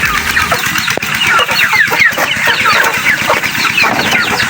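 A flock of backyard laying hens clucks and chatters continuously, close and loud, with overlapping calls filling the space and no talking.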